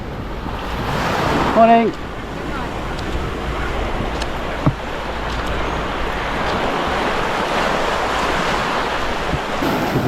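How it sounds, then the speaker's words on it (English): Waves wash steadily onto a secluded beach between Agonda and Cola in Goa, a soft continuous surf with light wind, and a passerby briefly calls out a greeting early on. "So this is one part of the beach, secluded."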